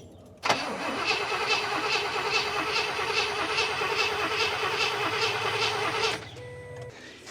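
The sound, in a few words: 1972 Cadillac engine cranking and starting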